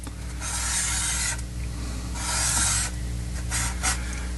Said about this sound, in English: the first step in our project is going to be to cut a piece of square dowel